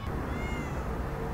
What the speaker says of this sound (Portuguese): Barulho de gato, deve ter gato aqui também